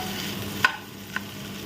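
Potatoes fry in a pan with a steady sizzle, broken by two short scraping knocks of a spatula as they are stirred.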